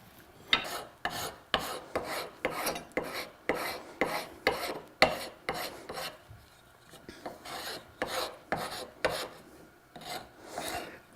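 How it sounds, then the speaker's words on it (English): A wood rasp files a tomahawk handle in a steady series of close, scraping strokes, each a short gritty rasp with brief pauses between, continuing for well over a dozen passes with no talking. "take my rasp and start to remove some of these marks"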